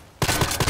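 EBR marksman rifle firing from a rooftop in the Contract Wars shooter game: loud gunfire bursts in abruptly after a short quiet gap, with rapid repeated reports in a dense cluster.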